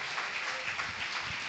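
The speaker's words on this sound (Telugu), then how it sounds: "చప్పట్లు కొట్టండి గట్టిగా." A church congregation at a Telugu Sunday worship service claps together, producing a steady, fairly faint wash of applause that carries evenly through the brief moment without a break.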